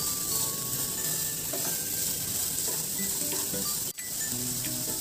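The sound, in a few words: sautéing food in a pan, sizzling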